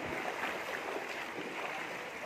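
Someone wades along a flooded road in Itahari after continuous rain, the water sloshing and splashing in a steady, close wash of noise that continues throughout.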